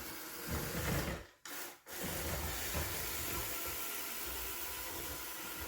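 A SwitchBot K10+ mini robot vacuum runs with only its rotating brush turning, giving a steady close whirring, scrubbing noise that cuts out briefly twice near the start and then continues evenly.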